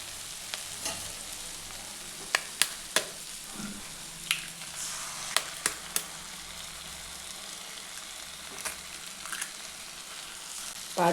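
Flat beans frying in a pan, with a faint continuous sizzle and sharp spoon clicks against the pan at irregular moments as they are stirred.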